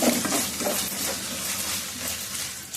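Fried masala for a fish curry is stirred around a pan, a soft continuous sizzle under light scraping and occasional utensil contact, close and fairly even throughout.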